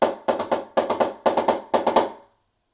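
A drum pattern of quick grouped strokes, four bursts of three hits each, galloping like hooves, played alone and fading out.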